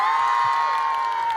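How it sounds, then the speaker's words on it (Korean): Audience at a fan event cheers and applauds for Subin, a loud, sustained wash of crowd noise with shrill whoops running the full length before easing off at the end. "우리 수빈이 형한테 고생했던 박수!"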